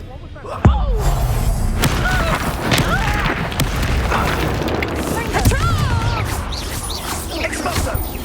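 Bombarda explosion spells cast in a Harry Potter-style video game, heavy booms and crashes bursting amid frantic combat noise, with a shouting voice over the din.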